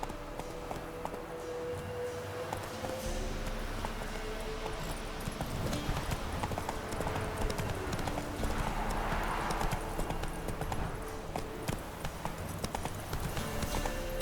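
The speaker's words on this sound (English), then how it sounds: "Whoa there, Roach." Horse hooves clip-clop steadily in Witcher 3: Wild Hunt, a rhythmic run of near, clear hoofbeats that carries on throughout over soft game ambience.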